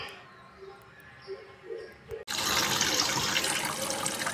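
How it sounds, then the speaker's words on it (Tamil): Tap water gushes into a tub, starting suddenly after a few quiet clinks and knocks, then pouring steadily and loudly as a dense splashing rush until the end. "இந்த மாதிரி ஒரு டப்பில் தண்ணியை பிடிச்சி"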